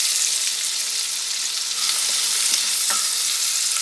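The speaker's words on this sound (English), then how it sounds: "Now I'm just going to saute this onion in that butter for just a couple of minutes." Diced onion sautéing in melted butter in a pot, a steady soft sizzle with a few light stirring knocks, alone and moderately close.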